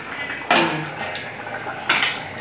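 A lid goes onto a pot of simmering Sri Lankan-style fish curry: two distinct metallic clanks of lid against pot ring out close by, about a second and a half apart, over a quiet background.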